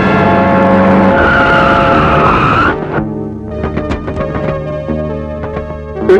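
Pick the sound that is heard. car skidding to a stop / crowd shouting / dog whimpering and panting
car skidding to a stop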